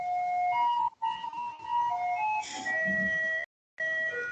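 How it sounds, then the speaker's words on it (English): Melody from a garbage truck drifts in as it approaches in Taipei, a tinkling electronic tune of steady tones, moderately faint and sounding alone, broken by a brief dropout. "the garbage car is coming"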